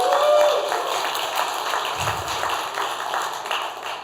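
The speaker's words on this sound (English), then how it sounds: "I love the clapping." Audience applause at a university entrepreneurship showcase, a steady wash of many clapping hands at moderate loudness with a brief murmur of voices underneath.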